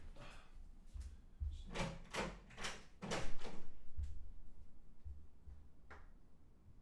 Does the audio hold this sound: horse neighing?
no